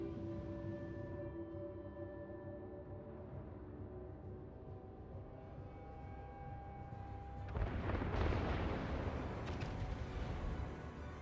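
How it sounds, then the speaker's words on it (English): Battleship salvos in a naval warship video game, Yamato trading fire, heard as a sustained rumbling wash of distant booms that swells into a louder, heavier barrage near the end. "Swagger now getting some shots at him from the Yamato as they trade salvos back and forth"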